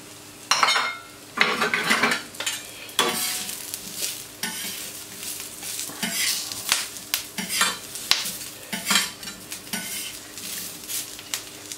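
Cooked potatoes tossed with herbs and spices in a sizzling pan, with steady frying sizzle under repeated scraping and clinking of a spoon stirring against the pan, close and continuous.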